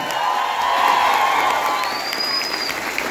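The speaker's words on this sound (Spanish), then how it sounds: "un aplauso para ustedes y una bulla" A festive crowd at a Mother's Day celebration in a village breaks into applause and cheering, a dense, loud wash of clapping and shouts with a brief whistle-like whoop rising above it.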